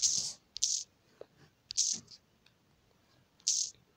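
Computer keyboard typing comes in short bursts of crisp, close clicks separated by pauses, with quiet moments between the clusters.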